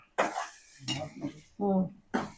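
Stuffed brinjal curry being stirred in a pan, a metal spoon scraping and clinking against the pan in a few short bursts, close up, with someone speaking in between.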